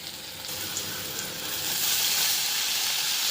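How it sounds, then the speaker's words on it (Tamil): Banana flower fries in a pan with sautéed onions, a steady close sizzle that swells louder in the second half, with faint stirring touches. "இதில் வாழைப்பூ போட்டுக்கலாம்."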